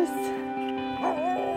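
Siberian huskies at a snowy Lapland sled dog kennel yip and howl in a steady tonal chorus, with a louder bark-like burst near the end and a faint voice underneath.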